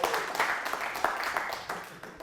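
A lecture audience claps together for a speaker. The applause comes as a dense, lively patter of many hands with uneven surges, lasting a couple of seconds.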